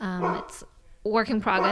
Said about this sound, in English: You can hear her barking right now.